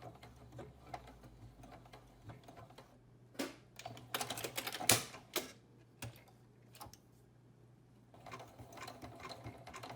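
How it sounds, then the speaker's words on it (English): A sewing machine stitches with upholstery thread through nylon webbing for a scuba weight, running in short bursts with pauses, the busiest stretch in the middle and another run near the end, no talk. "this just might sew directly without having to put a piece of nylon tape on it"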